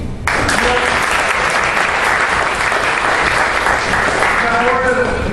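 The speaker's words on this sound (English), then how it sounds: "give yourself a big round of applause" After a short quiet start, a seminar audience at a sales master class breaks into loud, sustained clapping, with a few voices faintly audible beneath the applause toward the end.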